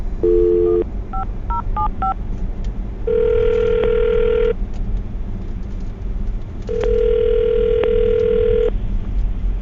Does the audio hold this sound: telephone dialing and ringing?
yes